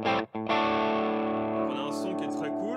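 Electric guitar played through an overdrive pedal, a thick, gritty sustained chord ringing out after a couple of short stabs, with a few notes bending and sliding as it decays.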